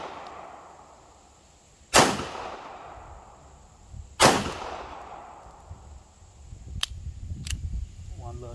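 Jimenez Arms J.A. 380 pistol firing outdoors: two sharp, loud shots a couple of seconds apart, then two fainter, quicker reports and some clinking afterward.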